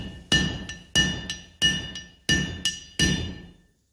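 Hot steel is hammered to upset a rivet at a blacksmith hammer-in demonstration. Six ringing hammer blows with resonant metallic clinks land at irregular intervals, close and clear, with the last ring fading into silence.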